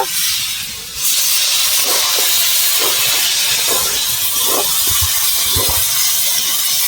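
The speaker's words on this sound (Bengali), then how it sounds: "5 মিনিট হয়ে গেছে আলু কষানো, এবার আমি জল দিয়ে দেব।" Water hits a pan of frying potatoes and peas, sending up a loud, steady hiss that fills the clip, with a few soft clinks and stirring knocks beneath it.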